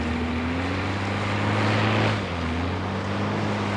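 A boat engine running steadily at a constant pitch, a low droning hum with a faint tonal whine above it, swelling slightly midway as the revs build, with water and wind noise around it.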